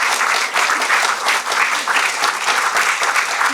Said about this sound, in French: je crois qu'on peut aussi applaudir Philippe